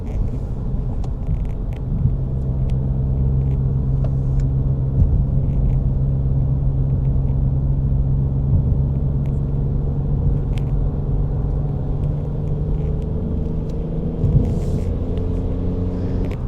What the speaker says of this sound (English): It almost sounds like a JCW now with that exhaust on it.